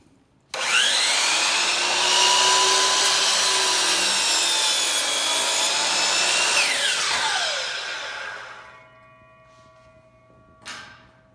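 A miter saw whines up and bites through wood in one long, loud cut in a community woodworking shop, then spins down, followed by a single knock.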